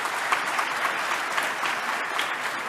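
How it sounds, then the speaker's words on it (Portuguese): An audience applauds during a political speech, producing dense, continuous clapping at moderate volume with a few sharper claps poking through, sustained without pause and with no voice over it. "agradeço as palmas"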